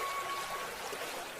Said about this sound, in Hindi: तभी कुएं से पानी की गड़गड़ाहट की आवाज आती है और कुएं का पानी बढ़ने लगता है